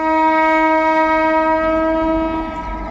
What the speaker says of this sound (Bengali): আজিমগঞ্জ জংশন রেল স্টেশন ঢুকছে ট্রেন দেখতেই পাচ্ছেন